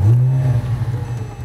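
A Porsche GT3 engine revs hard and accelerates, a loud, close, low growl that holds steady and then wavers and eases over a moment.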